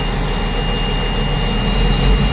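An engine roars loud and close with a dense, steady drone, swelling slightly near the end as the throttle opens.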